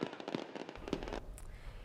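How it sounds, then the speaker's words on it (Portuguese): Fireworks burst after a burial, with several sharp crackling pops in quick succession followed by a quieter, lingering fizz. "O sepultamento foi seguido por uma chuva de fogos de artifício que durou 20 minutos"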